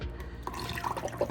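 Thick waterless car wash liquid poured into a container, with a short run of gurgles and splashy drips that start after a brief pause and come in uneven bursts.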